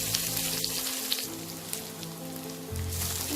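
Large onions frying in a pan toward light brown crackle and sizzle steadily at moderate loudness, with a low background hum and a few small clinks, and no one speaks.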